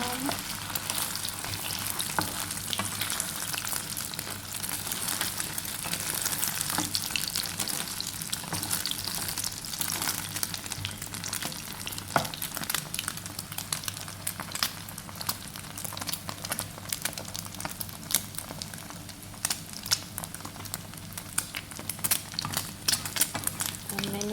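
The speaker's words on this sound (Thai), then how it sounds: "เจียวหมูยอใบโหระพานะคะน้ำหอม" Beaten egg omelette with Vietnamese pork sausage and basil frying in a hot pan, a steady close crackling sizzle that runs without pause.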